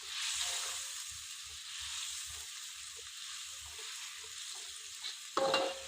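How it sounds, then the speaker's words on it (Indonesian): Chicken liver and gizzard stirred and fried in a pan, a steady soft sizzle with faint scraping stir strokes and a brief clatter near the end. "Diaduk-aduk terus kayak gini."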